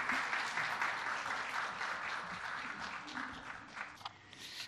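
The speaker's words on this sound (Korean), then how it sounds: "이 시간 나오실 때 우리 뜨거운 박수로 한번 환영하시겠습니다." A church congregation gives a warm round of applause to welcome a missionary preacher to the front, steady dense clapping from a large crowd for several seconds, tapering slightly toward the end.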